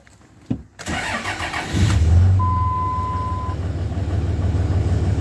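A 2003 Dodge RAM 3500 dually pickup's engine cranks briefly after its grid heater cycles, then catches and settles into a steady low idle rumble, with a thin electronic beep sounding partway through, close.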